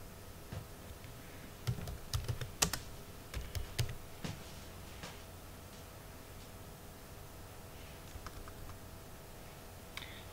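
Typing on a computer keyboard, a quick burst of close key clicks followed by sparser taps and a final click against a faint steady hiss.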